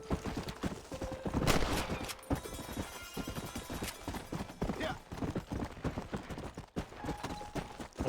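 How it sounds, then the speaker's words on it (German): Horse hooves clip-clopping at a gallop in the Red Dead Redemption video game, a steady rapid rhythm of close, loud hoofbeats with game sound effects layered around them and no talk. "Das Pferd wird doch ab und zu mal richtig schnell, ne?"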